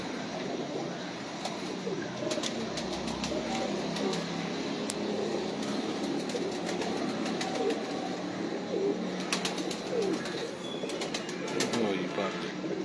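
Pigeons coo softly and continuously in a loft, with occasional wing flapping and faint background noise throughout.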